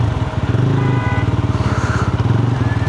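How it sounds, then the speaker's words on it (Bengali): A GPX Demon 250 motorcycle sits idling with its cooling fan running, a close, steady engine throb of rapid, even pulses under a continuous whirring hum. "এই যে ফ্যান চলতে শুরু করে দিয়েছে"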